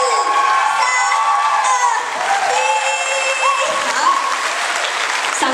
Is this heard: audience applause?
yes